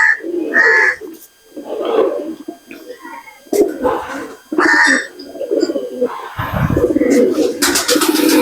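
Madrasi pigeons coo and call close by in a loft, repeated throaty bursts with short pauses between them, ending with a louder rustle or flutter.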